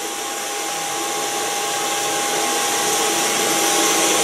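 Blow dryer running continuously while styling ultra short hair, a steady loud broadband whoosh with a thin constant whine and no pauses or talking.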